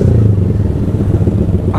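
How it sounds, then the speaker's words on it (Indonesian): Honda Sonic motorcycle engine running with a worn, knocking mechanical clatter, a close, loud, steady idle with rough rhythmic ticking throughout. "di bagian pemesinan itu mesinnya bunyi klotok-klotok cuy."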